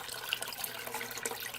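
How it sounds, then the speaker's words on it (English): Water drains out through a bell siphon in a small DIY aquaponics system, a steady wash of splashing flow with faint drips, fairly quiet and continuous. "water's going to come out."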